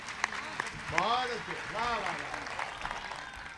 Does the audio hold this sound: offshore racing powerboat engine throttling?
no